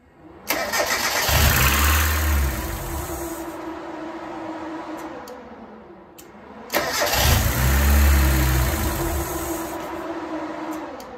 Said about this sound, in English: I've raised the idle a little bit, but it still runs terribly.